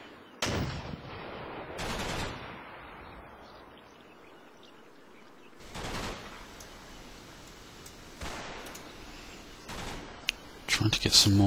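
Gunfire in the Combat Mission Market Garden war game: a handful of sharp shots and short bursts spaced several seconds apart over a quiet background, with a sharper flurry at the very end.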